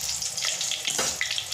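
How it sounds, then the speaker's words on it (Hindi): Chillies, whole and slit, fry in hot oil for Punjabi kadhi pakora, giving a steady close sizzle with a few brief pops and crackles over its short span, and no one speaking. "पहले हम मिर्च को फ्राई करेंगे।"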